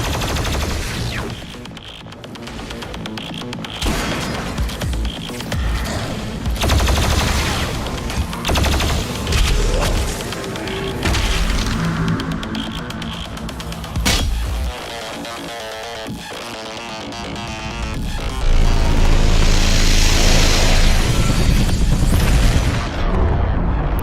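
The BFG 10,000 superweapon firing in Doom Eternal, heavy booming blasts layered over dense battle noise and rumbling impacts, loud throughout and swelling into a big sustained roar near the end.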